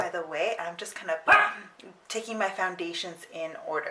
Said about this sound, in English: She is a bit barky.